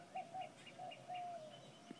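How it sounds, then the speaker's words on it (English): Early-morning birds call in Port Arthur, Texas, with a dove giving a series of soft, low coos over faint chirps from other birds; quiet, fairly distant and calm, with no voices. "capture some bird sounds this morning."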